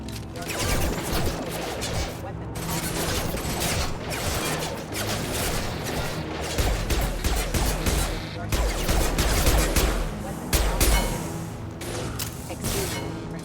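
In the video game Mass Effect 2, mechs open fire in a dense, continuous barrage of gunfire with clanks and whooshes. The volley sounds loud and close and never lets up, and bits of voice come through under it.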